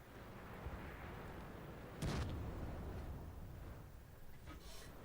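A tank gun fires once in the online game World of Tanks, a single muffled boom partway through over a low, steady game rumble, faint overall with no voices.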